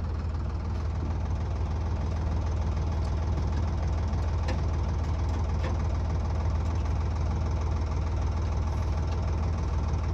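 A tractor engine runs steadily throughout, a loud low knocking idle rumble with constant vibration and no pauses, close to the listener.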